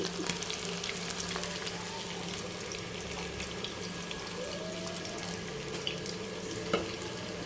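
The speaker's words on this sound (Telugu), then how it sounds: "చూసారా ఫ్రెండ్స్ వేగుతున్న చికెన్ ఫ్రై" Chicken fry sizzles steadily in a pan, a continuous close crackle and hiss with small pops scattered throughout and no talking.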